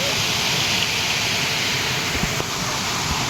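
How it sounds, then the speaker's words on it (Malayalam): A small waterfall in a hilly outdoor spot, a steady broadband rush of falling water, even and unbroken for a few seconds, with no voices. "ചെറിയൊരു ലിറ്റിൽ വെള്ളച്ചാട്ടം"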